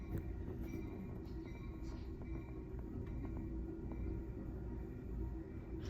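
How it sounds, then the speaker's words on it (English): A Pacific Surfliner train rumbles past behind a hotel room in San Diego, a steady low roar with faint clacking that holds at a fairly distant, muffled level throughout. "So this is the Pacific Surfliner."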